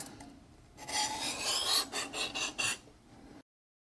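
A Cutco chef's knife is drawn across a Shapton whetstone in a few quick, close scraping strokes, with a slight hiss and gritty rasp, and then the sound stops.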